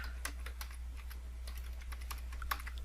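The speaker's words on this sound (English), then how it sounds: "So if you know what you want to type, just type it in here." Rapid, light clicking of computer keyboard keys goes on steadily over a constant low hum, close up and fairly quiet, with no speech.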